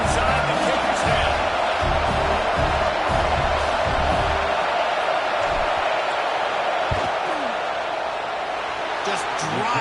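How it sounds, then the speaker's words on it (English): A stadium crowd in College Football 26 roars as a field goal unit lines up on fourth down, a loud, steady wash of crowd noise filling the whole stretch and easing slightly toward the end. "This crowd trying to do its part to get inside the kicker's head."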